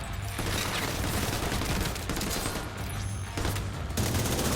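In The Division 2, bursts of gunfire aimed at hunter enemies crackle almost continuously under a dense, steady game-ambience roar, with a few sharper shots standing out near the end.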